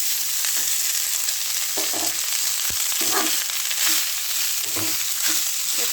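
Leftover rice frying in a pan, stirred continuously: a steady sizzle runs throughout, with soft scraping stir strokes every second or so and one sharp knock of the spoon against the pan.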